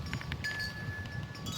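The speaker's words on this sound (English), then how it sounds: "it's kind of windy out here" Wind gusts buffet the microphone outdoors, a continuous low rumbling roar with brief flutters, close and steady throughout.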